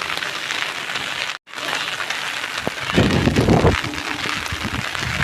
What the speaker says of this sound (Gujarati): બહુ વરસાદ આવ્યો હવે હું પલળી ગઈ છું